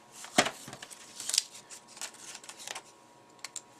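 Adhesive tape is pulled and pressed onto a handmade Easter card, with short crackling rips and light tapping handling noises in irregular bursts, close and quiet.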